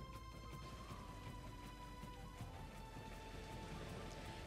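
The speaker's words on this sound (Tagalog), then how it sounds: "ramdam na ang buhos ng ulan dito sa bayan ng Santa Ana" Heavy rain pours down in the town of Santa Ana during Typhoon Egay, a steady dense hiss of rainfall with scattered drop impacts, constant and moderately faint throughout.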